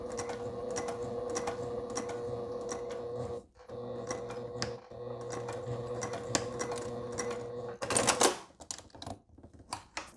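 A sewing machine stitches a bulky seam along an edge for a handbag strap, running in a fast steady chatter with a brief pause, then a burst of louder rattling near the end.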